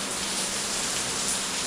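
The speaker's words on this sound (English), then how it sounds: "It started raining pretty good" Heavy rain falls outside a workshop, a dense, even hiss of drops with no pauses, heard from indoors at a moderate level.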